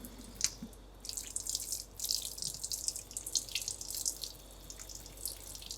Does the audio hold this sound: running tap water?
yes